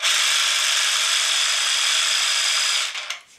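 A Festool PSB 420 jigsaw set to its lowest speed runs with a steady, buzzing whine at close range for about three seconds, then stops abruptly.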